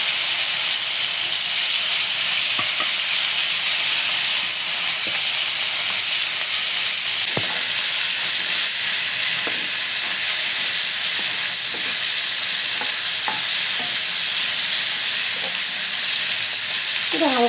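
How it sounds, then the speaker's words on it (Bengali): Pieces of winter hilsa fish, salted, fry lightly in hot oil in a pan, giving a steady loud sizzle and hiss throughout, with occasional faint clicks and knocks from the utensils. "এটা হালকা ভাজবো, বেশি একটা ভাজবো না"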